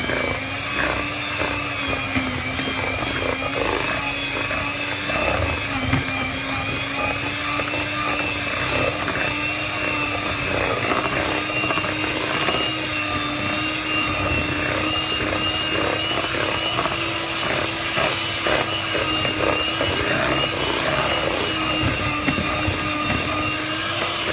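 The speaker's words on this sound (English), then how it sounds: "using a hand mixer, just beat it all together" Electric hand mixer beating a thick Nutella mixture for tiramisu, a loud steady motor whine with rattling and strained grinding that continues unbroken the whole time.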